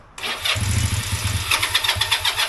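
A Honda CM200T motorcycle engine cranks to start, a loud, steady, rapid churning rhythm that continues throughout without catching, with no voices.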